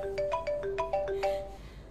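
Phone ringtone playing a short melodic sequence of bright electronic tones, fairly quiet and steady, with no talking.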